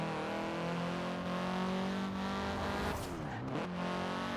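An Audi S1 with a Red Bull livery drives in Forza Horizon 4, its engine holding a steady tone, then revving and dropping sharply near the end with a brief tire squeal, clear and loud.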